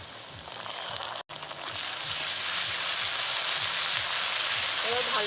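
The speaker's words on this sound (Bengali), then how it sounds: "এবার ভালো করে নেড়ে চেড়ে ভেজে নেব" Onions and ground spice paste fry in a pan with a continuous close sizzle, growing louder and denser after a brief break, with occasional stirring scrapes.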